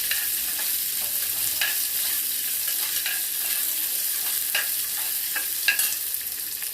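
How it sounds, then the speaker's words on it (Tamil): Onions sizzle steadily in a hot pan, with a constant frying hiss and occasional clicks of stirring. "நறுக்கி இதில் போட்டு இதையும் வதக்கணும்"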